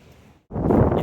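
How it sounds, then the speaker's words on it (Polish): A warm wind gusts through the narrow stone streets of Mdina, Malta, starting as a faint hush and then rising abruptly into loud, close buffeting against the microphone. "Ale tu w tych uliczkach to bardzo wieje. Chociaż to jest ciepły wiatr"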